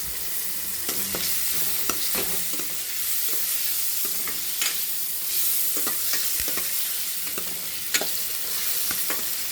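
Tomatoes sautéing with salt in a hot pan for goat intestine kudal kuzhambu: a constant near sizzle with frequent sharp scraping and tapping as a spatula stirs, no talking.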